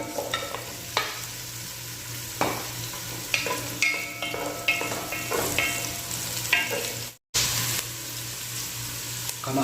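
Chopped onion hits hot oil with garlic in a frying pan, sizzling steadily up close while a utensil knocks and scrapes in irregular stirs, broken by one brief cut of silence.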